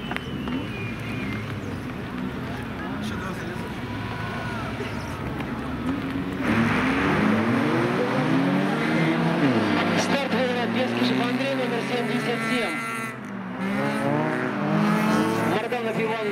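Race cars on an ice track pull away from the start of a heat, engines rising and revving close by, with tyres working over ice and snow and a commentator talking over the noise.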